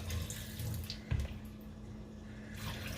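Tap water running into a kitchen sink while rice is rinsed, a soft steady flowing hiss with a low hum beneath and a brief splashy bump near the middle, no talking.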